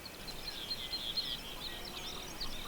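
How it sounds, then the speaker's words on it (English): Birds sing faintly outdoors, with scattered high chirps and tweets over quiet background hiss, distant and soft with no other sounds. "And the birds, that's a pleasant sound."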